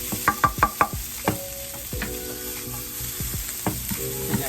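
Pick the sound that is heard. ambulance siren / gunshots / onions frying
onions frying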